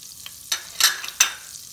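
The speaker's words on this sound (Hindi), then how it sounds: "इन तमाम ड्राई मसाला को हमने सॉटे करना है ताकि इसकी जो खुशबू है वो बटर के साथ मिक्स हो जाए।" Whole dry spices, green and black cardamom, cinnamon and cloves, sautéing in butter give short bursts of sizzling and stirring, three or four distinct surges of hiss close up, with quiet gaps between.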